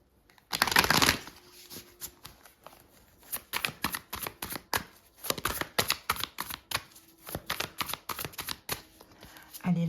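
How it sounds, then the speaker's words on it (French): Tarot cards being shuffled by hand: a loud riffle burst at the start, then a long run of quick, crisp card flicks and taps in uneven clusters, close and dry, with faint talk in the background. "On va prendre 3 cartes du tarot."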